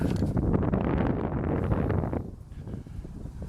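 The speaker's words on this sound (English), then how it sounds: "a bit windy up here, being high up." Gusty wind on high ground at Wentworth buffets the microphone with a rough, low roar that eases slightly partway through; no voices.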